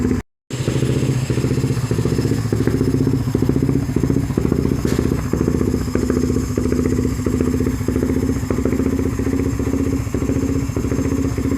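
A Rusi Rider 150 Fi motorcycle with a tuned Juken ECU idles steadily nearby, a loud rhythmic putter with mechanical clatter, continuous throughout after a brief silent moment at the start.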